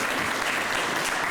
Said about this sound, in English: Can we give her one more hand clap for Ms. Ramsey?